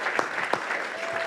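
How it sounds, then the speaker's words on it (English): Audience at a community event applauding in a brief burst of fairly close, dense clapping with a few sharper claps standing out. "Give her a round of applause for me."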